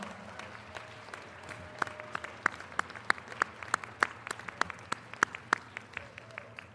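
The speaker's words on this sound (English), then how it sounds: "please give a resounding applause for your extended family of faculty and staff" Commencement audience applause for university faculty and staff, a scattered, fairly faint clapping with distinct individual sharp claps ringing out in an uneven rhythm over a soft crowd bed.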